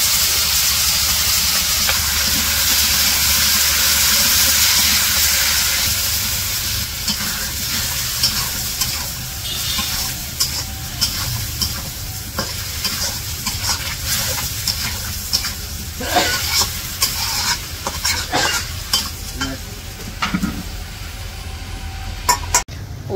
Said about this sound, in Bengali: মশলা কষিয়ে এখন এই যে সবজি দিয়ে দিতেছে, শুধু বেগুন দিয়ে রান্না করবো।